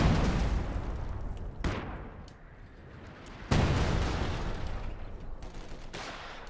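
Heavy gunfire and explosive blasts hammer a building in the real-time strategy game Company of Heroes, with two sharp loud impacts followed by decaying rumbling bursts of shots.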